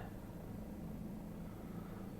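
Bell 407 helicopter in a flight simulator game, cruising over downtown Los Angeles: a steady, continuous low rotor and engine drone, moderately quiet and unchanging, with no voices.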